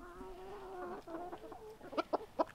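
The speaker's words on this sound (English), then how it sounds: "Our other rooster over there, Hey You, I think is what we named him." A rooster lets out a drawn-out crow, followed by a few short, sharp clucks close by.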